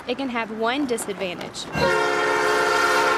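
A train horn near railroad tracks gives a loud, sustained blast of steady harmonic tones that starts right after a person finishes speaking and continues to the end.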